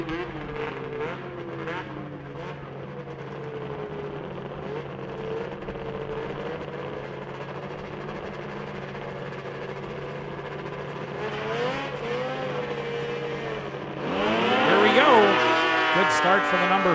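Power toboggans racing at the Canadian Power Toboggan Championships drone steadily from a distance, engine pitch rising and falling, then a louder, closer surge of revving sleds near the end, with an announcer talking throughout.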